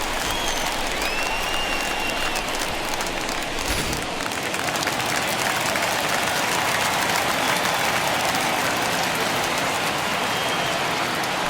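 Home crowd at a 1976 NLCS baseball game, Reds at Phillies, cheers a leadoff triple in a dense, continuous roar of applause and noise that stays loud throughout without clear breaks.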